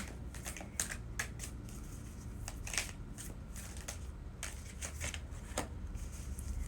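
Tarot cards being picked up and handled, a run of crisp, close papery flicks and riffles scattered irregularly over low steady background rumble, with no talk.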